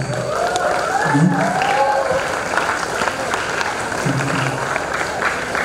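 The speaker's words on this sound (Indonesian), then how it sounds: "Tepuk tangan untuk Ustadz Ajis" Audience applause at a public lecture at an Islamic boarding school, a steady wash of clapping throughout with voices mixed in, fairly loud and sustained.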